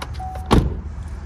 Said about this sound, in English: Let me close the door again.